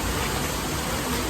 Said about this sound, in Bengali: কিন্তু প্রচুর বৃষ্টি দিচ্ছে